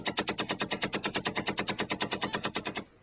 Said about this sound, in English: some of the Federal Army's equipment is distinctly vintage, like these Vickers machine guns introduced into the British Army in 1916